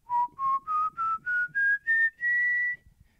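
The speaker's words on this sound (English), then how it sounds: "this is what a whistle sounds like on this particular microphone" Whistling into a handheld Logitech microphone: seven short, clear notes climb steadily in pitch, then a longer held note, close and alone.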